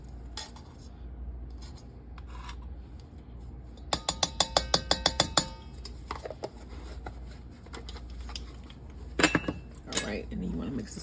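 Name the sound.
mixing salt, baking soda and baking powder into cookie batter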